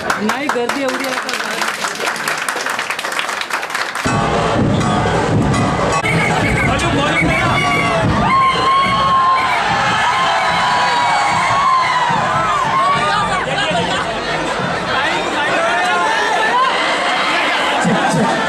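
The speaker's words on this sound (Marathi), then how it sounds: "इस उद्घाटन समारोह दौरान सैकड़ों की भीड़ उमड़ी थी" Hundreds of people crowd an inauguration ceremony in Chandrapur, a loud continuous babble of many voices with shouting and cheering, after a short stretch of noisy speech at the start.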